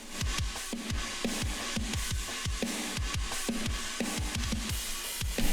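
A heavily compressed parallel MIDI drum bus for heavy music plays alone, with fast, pounding, squashed kick and snare hits and a dense wash of cymbals, steady and loud without talk.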